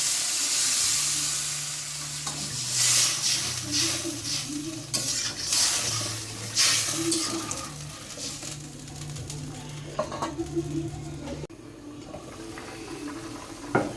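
Water hits sautéed masala in a hot pan, giving a loud burst of hissing sizzle that settles into a softer bubbling sputter with occasional stirring clinks, while a person talks intermittently.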